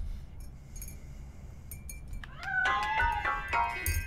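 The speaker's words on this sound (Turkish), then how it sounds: "That cat must be hiding inside." A cat meows from inside a piano in the video game RoboCop: Rogue City: a few faint, scattered meows first, then a louder, drawn-out yowl near the end over low background hum.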